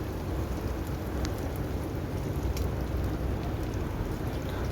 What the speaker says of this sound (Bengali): একটু হাতে সময় নিয়ে কিন্তু মিডিয়াম টু লো ফ্লেম করে এটাকে মশলাটা ভেজে নিতে হবে।